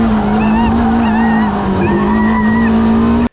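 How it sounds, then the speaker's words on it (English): A Honda S600 sliding its loose back end around an autocross course, its engine droning steadily and loud at close range throughout, with faint wavering tire squeals rising above the motor. "The car was very loose, sliding the back end around, which was a lot of fun"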